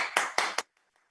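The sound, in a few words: audience applause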